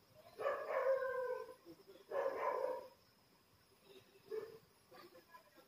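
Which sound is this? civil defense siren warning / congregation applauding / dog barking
dog barking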